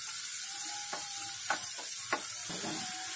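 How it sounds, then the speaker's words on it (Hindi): Green chilli paste stirs and fries in vegetable oil while cutlets are being made, giving a steady close sizzle broken by several sharp scraping strokes of a spoon against the pan. "इसको तेल के साथ थोड़ा भून लेने का, थोड़ा मिक्स कर लेने का"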